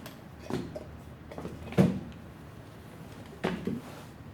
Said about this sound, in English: Here's the knocking indeed.